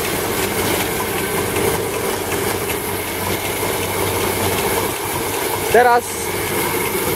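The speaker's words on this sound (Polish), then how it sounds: "Tak, maszyka pracuje bez zarzutów, jak widać. Powoli sobie mieli." A farm grain grinder milling feed for bulls and hens runs as a steady, even mechanical drone throughout, with a brief louder rattle near the end and a short spoken word over it.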